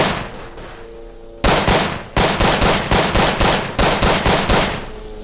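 Rapid bursts of rifle and machine-gun fire in the World War I shooter Verdun, loud and close, arriving in a rhythmic series of sharp cracks after a brief lull, with no talking.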